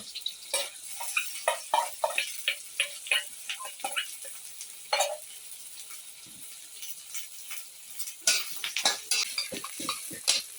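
Salted egg stir-fried in a pan: irregular light clicks and scrapes of a utensil against the metal pan, sharp little taps in uneven bursts with quiet gaps between them, near and fairly soft, with no talking.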